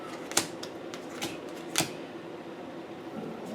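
Oracle cards lifted out and shuffled by hand, with three crisp close slaps and flicks spaced across the first two seconds, then soft rustling in a quiet room.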